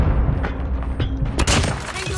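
A bomb goes off in a video game, a burst of sharp blasts and gunfire-like cracks with a bright explosive surge partway through, loud and close.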